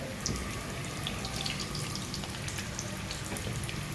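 Samosas half-frying in hot oil on a medium gas flame, a steady close hiss and bubbling crackle that holds evenly throughout with no talking.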